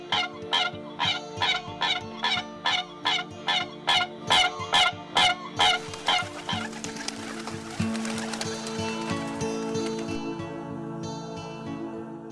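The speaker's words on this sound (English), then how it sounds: "we hope you have enjoyed Birds Calls" Recorded bird calls broadcast on an All India Radio Bengaluru station, a run of about fifteen loud, evenly spaced honking or gobbling fowl-like calls, followed by a denser, sustained stretch of sound that slowly fades.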